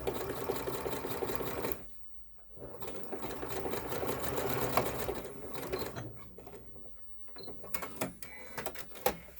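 A sewing machine zigzag-stitching over a metal wire inside a fabric face mask, running in close, loud mechanical bursts with a couple of short pauses between runs.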